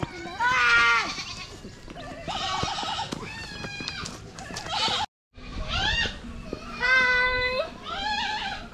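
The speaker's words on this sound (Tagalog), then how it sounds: "Kambing!" Goats bleat loudly and repeatedly at close range at a town fiesta in Anda, Pangasinan, wavering cries in several bursts with a brief gap midway, amid outdoor commotion.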